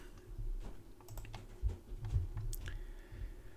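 A computer keyboard typed on in a quick, irregular run of soft key clicks, close and fairly quiet, with no voices.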